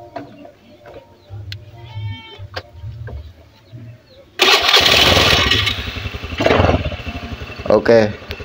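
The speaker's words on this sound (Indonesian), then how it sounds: "ini RPM sudah terdengar lebih enak ini Mas, nggak ginjal-ginjal seperti di awal ya" A Honda Beat or Vario scooter engine after a carburetor service starts up and runs with a steady, loud idle and a few revs, with someone talking over it.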